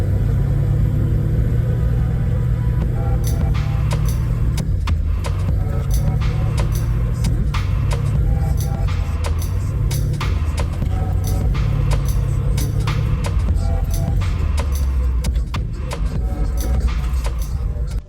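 A modified LADA 07 car idles and runs with a loud, steady low engine drone that swells and dips slightly, punctuated by sharp clicks and taps close by.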